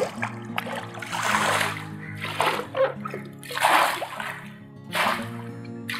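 Water carrying fish feed is poured into an aquarium tank for young angel or zebra fish fry, giving several bursts of splashing and sloshing in steady waves, fairly close and with no talk over them.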